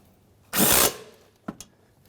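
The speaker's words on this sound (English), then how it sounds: "with our 10mm socket, go ahead and tighten that down" A 10mm socket tightening the bracket bolt on a 2007-2013 Mitsubishi Outlander's variable valve timing solenoid: one short whirring burst, then two quick metallic clicks.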